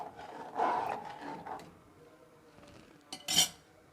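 A spoon stirs khichdi ingredients with water in a metal pressure cooker, giving a few clinking, scraping bursts of metal on metal with quiet gaps between them.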